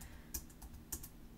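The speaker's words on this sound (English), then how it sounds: "by typing 0, 0, 0 into the command line and hitting enter" Computer keyboard being typed on, with a few sharp keystrokes and a firmer press like hitting enter, spaced over a second and a half against quiet room hiss.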